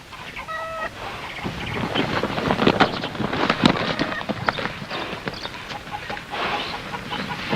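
In an old Hollywood western film, a horse is ridden while its hooves clip-clop irregularly at moderate distance. Faint clucking fowl can be heard in the background.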